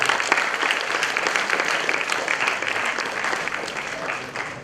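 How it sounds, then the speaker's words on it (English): An audience of students at an induction program workshop applauds the chief guest, a loud, dense burst of clapping that carries steadily and then tapers slightly toward the end. "Let's give applause"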